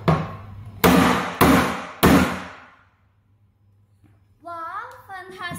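Three loud, sharp hammer blows strike a toilet cistern during a quality test at a trade fair, each impact ringing and decaying over about half a second, followed by quiet and then a voice speaking.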